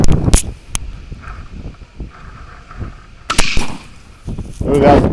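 Winchester 1885 Trapper rifle in .45-70, fired outdoors, giving two sharp, loud cracks a few seconds apart with quieter sounds and some voice between them.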